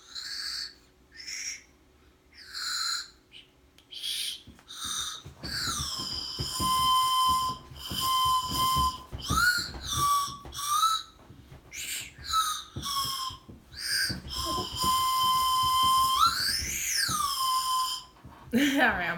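A candy whistle toy blows a run of breathy, hooting notes, short toots at first, then longer sliding and shifting pitches as fingers cover its notches, played close with faint murmuring between.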